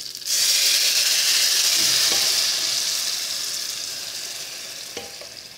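Beans tipped into a pan of hot oil sizzle loudly at once, a steady close frying hiss that slowly eases over several seconds, with a couple of faint clinks near the end.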